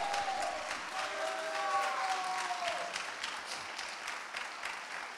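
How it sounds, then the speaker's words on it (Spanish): A church congregation in Santiago, Chile claps steadily throughout, a dense, even wash of applause with a faint sung or sustained tone in the first half, heard at moderate distance. "que salgan esas palmas para el Señor"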